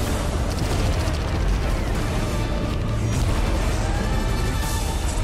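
Continuous roaring blasts and rumbling booms fill the whole stretch, loud and dense, like layered sci-fi explosions with no pauses, from a space video game.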